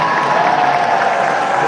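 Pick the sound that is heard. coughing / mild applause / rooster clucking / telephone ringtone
mild applause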